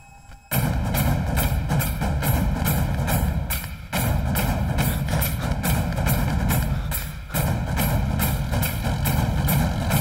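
A tractor engine chugs loudly and steadily at close range, with a rapid pulsing throb and a couple of brief dips in the drone, in a rural farm scene.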